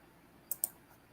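Two quick, sharp clicks from a computer keyboard sound close by in a quiet room, followed by a fainter third tap.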